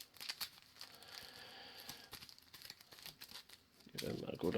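Arkham Horror card game cards are shuffled up close, giving a faint, steady papery riffling and patter that grows louder toward the end.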